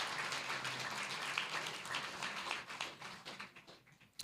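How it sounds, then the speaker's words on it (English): An audience at a history talk applauds Nautical Council members with faint, steady clapping that continues throughout and thins slightly toward the end. "So a round of applause for them and the Nautical Council."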